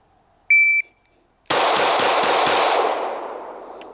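A shot timer beeps once, then a Staccato XC pistol fires five shots in a fast, loud burst, close by, with echoing decay afterward.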